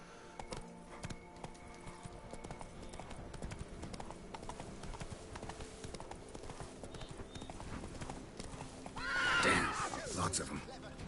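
A horse in The Witcher 3 video game gallops with a steady clip-clop of hooves and lets out a loud whinny near the end, all under faint game ambience.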